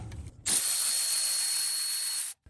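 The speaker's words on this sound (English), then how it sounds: "I'll go in with my extension and socket and get on there" A socket and extension on a Toyota/Lexus 4.7L 2UZ-FE V8 make a steady, close, loud mechanical whir as a valve cover bolt is loosened, running unbroken for about two seconds before stopping abruptly.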